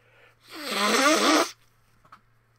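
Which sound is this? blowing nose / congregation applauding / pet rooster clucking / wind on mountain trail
blowing nose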